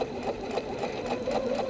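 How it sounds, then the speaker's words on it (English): A sewing machine stitching fabric, running at a steady pace with an even, rapid mechanical pulse, close by and without speech. "it's so easy to adjust your fabric when you're sewing"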